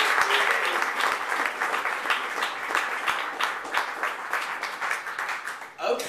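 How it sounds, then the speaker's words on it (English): An audience at a storytelling salon claps steadily for performer Les Kirkendall, a full round of applause that is loud and even for about six seconds before tapering off. "a big round of applause for Mr."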